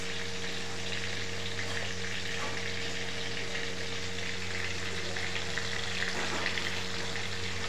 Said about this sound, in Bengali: এবার মাছটা একে একে কড়াতে ঢেলে দিলাম।